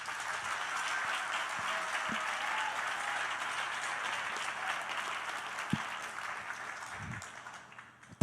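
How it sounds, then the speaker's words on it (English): Applause from the audience for the artists at a classical music recital and 18th birthday celebration, a broad wash of clapping that holds steady and then thins out toward the end, with a few isolated thumps and no voices. "Please give another round of applause to all the artists."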